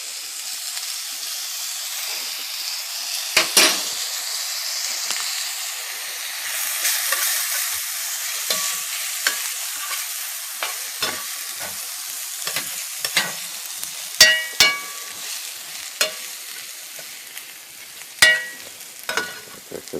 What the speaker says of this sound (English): I'm going to throw in a little garlic now.